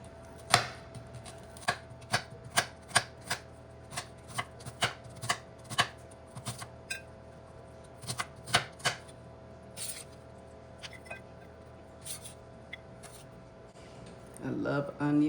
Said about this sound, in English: let me just go ahead and cut the onions up